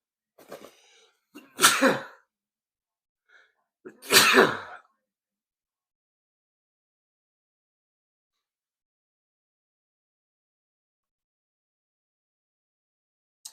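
Two sharp, loud sneezes a couple of seconds apart, preceded by a brief inhale, followed by near silence.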